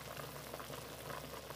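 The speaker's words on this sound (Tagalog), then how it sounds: "Guys, tumukulo na." Water for cooking squash, potatoes, carrots and rice bubbles at a low, steady simmer in a pot, a soft continuous gurgle and hiss heard close up with no talking.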